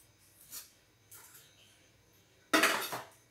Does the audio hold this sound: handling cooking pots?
yes